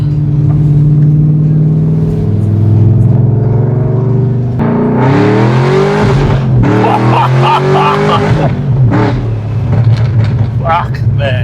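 A supercharged LS V8 Holden VF SS idles with a deep rumble, then revs hard and accelerates in loud, close bursts with rising engine pitch and supercharger whine, while people talk over it.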